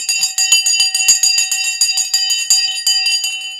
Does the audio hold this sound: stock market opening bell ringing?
yes